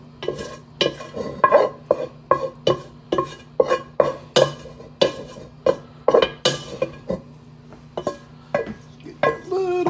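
A metal spoon scrapes and knocks against a cooking pot, pulling out leftover homemade spaghetti after draining, in a series of sharp, close, irregular clinks and scrapes about every half second.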